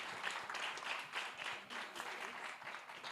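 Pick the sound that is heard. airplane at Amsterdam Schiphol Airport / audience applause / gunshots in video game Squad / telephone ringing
audience applause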